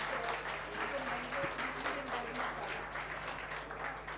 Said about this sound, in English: a round of applause for our cartoon characters